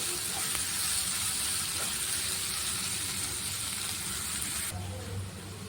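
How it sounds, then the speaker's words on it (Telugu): Onions, garlic and chillies fry in a pan with a steady, close hissing sizzle that fades slightly near the end, with no voices over it. "వీటన్నింటినీ బాగా వేయించుకోవాలి, పచ్చివాసన పోయేలాగా"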